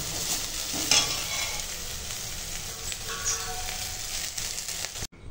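Home-grown bitter gourd, both raw and ripe, fries in a pan with a steady, close sizzle and occasional stirring scrapes, cutting out abruptly near the end.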